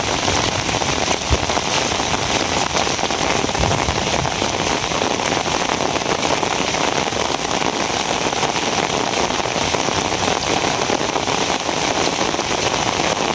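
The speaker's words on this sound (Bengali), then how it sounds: "তিন ঘন্টার বৃষ্টিতে দেখেন সব কি অবস্থা হয়েছে।" Heavy rain falls outside a house in cold weather, a constant dense hiss of drops on surfaces holding steady throughout with no speech, only faint background rumble.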